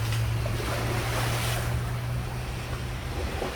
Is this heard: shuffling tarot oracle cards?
no